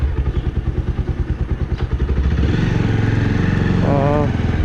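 A Bajaj Pulsar motorcycle thumps at a rhythmic, close idle, then its engine note rises into a smoother, louder rev as the ride begins.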